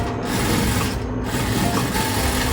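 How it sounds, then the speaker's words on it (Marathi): A sewing machine stitches tucks on a katori blouse. It runs with a steady, close, continuous whirring drone that stays loud throughout, and no one talks over it. "आणि नंतर मग टक्सला शिलाई मारून घ्यायची."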